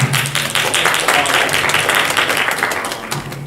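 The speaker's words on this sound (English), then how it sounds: "give first off a round of applause for putting it on" A room full of people applauds after a documentary screening at a panel discussion in Fort Lauderdale, Florida; sustained, dense clapping rolls on steadily, then begins to thin out near the end.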